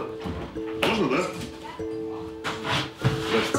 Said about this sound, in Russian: Какая порода собачка?